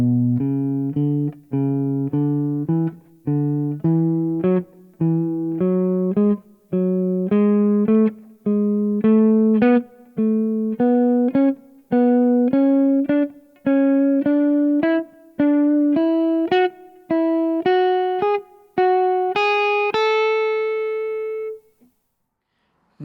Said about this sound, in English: A major scale, groups of 3, ascending, up, up, sounds like this.